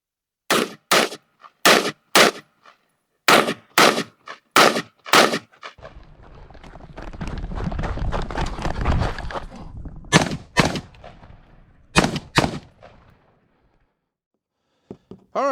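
Rifle shots ring out while a Monstrum Panzer LPVO scope is tested on a range: sharp, loud, evenly spaced cracks in quick strings, a pause filled by low rumble, then a few more shots.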